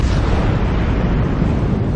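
Naval gunfire from a Cleveland cruiser in World of Warships, a loud, dense, continuous rumble of booming shots blending into a sustained roar.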